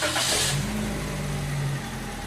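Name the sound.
Toyota Vios car engine starting and idling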